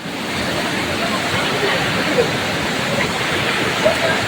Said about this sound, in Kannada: ನೋಡ್ರಿ ಗೈಸ್ ದೊಣ್ಣೆ ಫಾಲ್ಸ್.